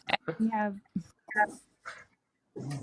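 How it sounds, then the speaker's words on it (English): Dogs fighting indoors at home, heard as a string of close yelps, whines and sharp barks in short bursts with brief pauses, mixed with a voice. "We have the dogs having a fight right now."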